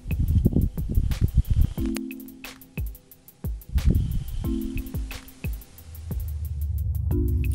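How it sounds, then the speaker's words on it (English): A dust devil on Mars passes the Perseverance rover's microphones as irregular bursts of rushing, buffeting wind noise. Regular mechanical ticks and short tonal hums from the rover sound through it. "This is the actual audio of a Martian dust devil."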